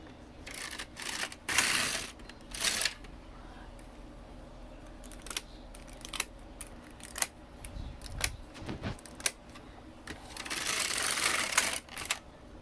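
Knitting machine carriage pushed across the needle bed knitting rows of a child's cardigan, clacking and whirring passes with sharp mechanical clicks in bursts, close and fairly quiet, no talking.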